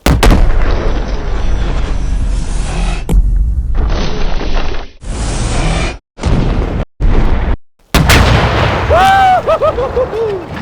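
An RPG rocket fired at a wall gives a string of loud, close blasts and booms, broken by short silences, with a whistling, tonal rush near the end.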